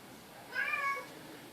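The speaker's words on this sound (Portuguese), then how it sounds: "Senhor, esse gato tá atacado." A cat gives one short meow close by, clear and moderately loud against a quiet room with no talking.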